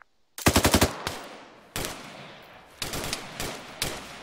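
Machine gun fire in Arma 3: a fast close burst of about six rounds, then single heavy shots and short bursts spaced through the clip, loud against a quiet background.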